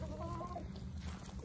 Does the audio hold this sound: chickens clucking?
yes